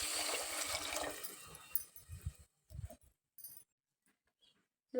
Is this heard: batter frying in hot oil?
no